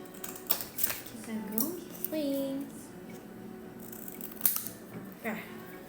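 Scissors snipping in a casual indoor livestream, a few short crisp cuts spaced irregularly, close and fairly quiet, with people chatting over and around them.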